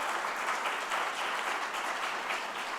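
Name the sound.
applause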